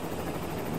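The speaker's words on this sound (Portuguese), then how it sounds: "É um helicóptero." A helicopter sound effect in a comedy joke recording, a short steady rotor drone with no speech over it.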